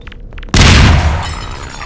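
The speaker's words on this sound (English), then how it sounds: "It's got a grenade!" Grenade blast in Half-Life 2: Episode One, a single loud close boom that hits suddenly after a short quiet lead-in and rolls off into a long fading rumble.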